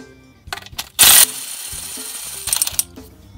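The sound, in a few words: ratchet removing 10 mm screws of Nissan Versa transmission filter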